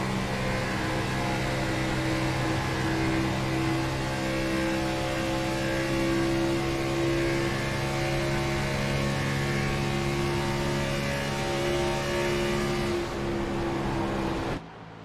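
Race car engines roar in a sim racing game during a 500-lap stock car championship event, a loud, steady, layered drone of several engines held at high revs that continues for the whole stretch before cutting off abruptly at the end.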